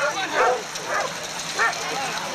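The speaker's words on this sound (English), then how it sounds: "Jill Barnes' dogs come from Terry Streeper's kennel" Racing sled dogs in a cart race yelping and barking in short excited bursts, fairly close.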